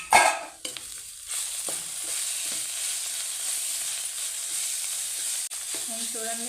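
Ginger garlic paste fries in hot oil for a tribal-style mutton curry, opening with a sharp burst of spattering and then settling into a steady, close hiss and sizzle; a voice speaks briefly.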